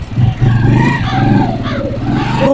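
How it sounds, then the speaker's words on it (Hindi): A motorcycle engine starts and revs with a loud, continuous, near throb that rises and falls across the whole moment, holding steady without pauses. "मैं मोटरसाइकिल स्टार्ट करता हूँ"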